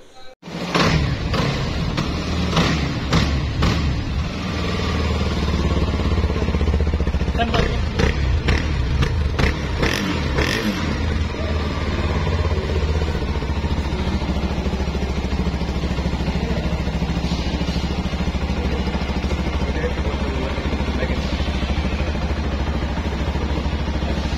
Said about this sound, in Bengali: এখন কিছুক্ষণ আগে এর যে এক্সস্ট সাউন্ডটা শুনলাম আপনাদেরকে এখানে দিয়ে দিব।